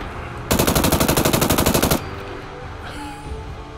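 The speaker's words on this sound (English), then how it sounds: "who's firing at me from this direction?" Rapid automatic gunfire from enemies in Fallout 4, a loud, dense burst of evenly spaced shots lasting about a second and a half before cutting off to quieter game ambience.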